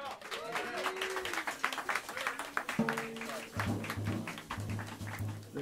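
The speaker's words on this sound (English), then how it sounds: "Please bring your hands together and give a warm round of applause" Audience applause at Smalls Jazz Club in New York City during a live quartet set, a steady patter of clapping mixed with voices and sustained tonal sounds.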